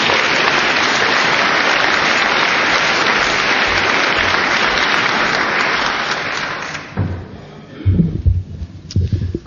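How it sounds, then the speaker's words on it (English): Church congregation applauds at an Easter service, a loud, dense, steady clapping that carries for several seconds, then thins out as a few voices and movements take over near the end. "Let's give Amanda a clap as she does."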